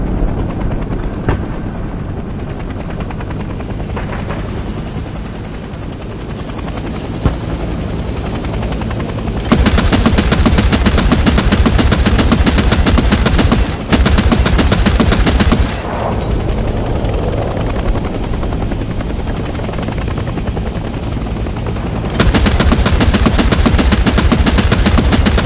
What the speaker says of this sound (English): Enter the AA gun and shoot down the enemy chopper.